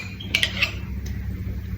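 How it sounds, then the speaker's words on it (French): A large spoon is lifted from among metal cooking utensils, giving a few quick, close clinks and scrapes of cutlery over a low kitchen hum. "Je vais prendre une grosse cuillère pour pouvoir y mettre"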